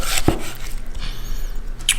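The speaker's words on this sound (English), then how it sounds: "We're gonna cut some decent sized slices here." A knife slicing through a loaf on a board, a few short scraping cuts with one sharp thunk of the blade landing, close and clear with no talking.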